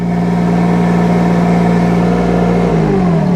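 A mini excavator engine runs steadily at high revs with a loud, continuous drone that holds even throughout, then dips slightly in pitch near the end.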